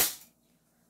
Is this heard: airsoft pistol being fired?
yes